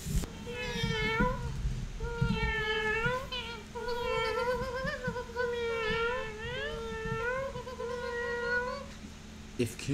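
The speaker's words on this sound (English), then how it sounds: "If kittens could laugh at you." A kitten meows repeatedly in a string of high, drawn-out cries at close range, with a low background hum underneath.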